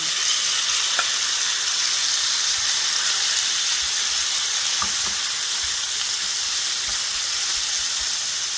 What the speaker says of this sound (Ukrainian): Кладемо на сковорідку і смажимо на вогні вище середнього